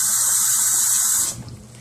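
Water pours steadily and loudly into an ecosphere tank for shrimp, a close, continuous splashing stream that cuts off abruptly after about a second, leaving faint drips and room noise.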